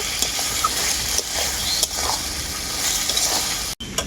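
Fried pointed gourd and potato pieces sizzle loudly as they are stirred into a spice paste in a pan. The frying is dense and continuous, broken by a few soft scrapes and a brief drop near the end. Nobody speaks.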